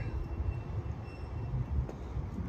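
A Parramatta Light Rail tram at a tram stop gives off a low, steady rumble of rail noise with a faint high whine, moderately loud and continuous, with no one speaking.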